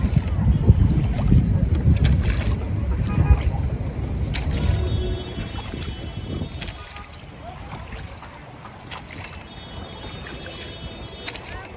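Boat ride on Naini Lake, with wind buffeting the microphone and water sloshing along the hull, loud at first and then settling into a steadier rush, with faint voices in the background.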